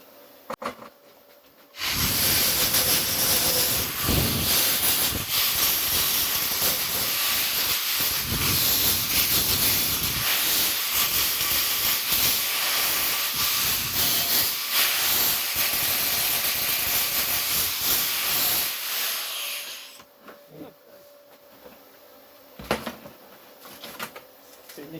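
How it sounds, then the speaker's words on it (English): An angle grinder works the edges of a Ford Escort MK1 front wing. A loud, harsh, continuous grinding roar starts abruptly, runs for roughly eighteen seconds, then cuts off into quieter handling noises. "let's grind those back up"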